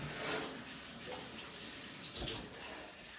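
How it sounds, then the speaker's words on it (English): Running water splashing steadily into a bathtub as hands are washed under the tap, close and fairly quiet with a few brief surges of splashing. "Okay, so I've just got to wash my hands in the bath."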